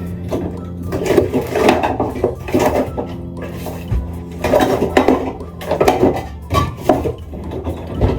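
Small items and utensils clatter and rattle in a tiny drawer, with repeated bursts of clinking metal, hard objects and wood knocking close by and fairly loud, with brief pauses between rummaging bouts.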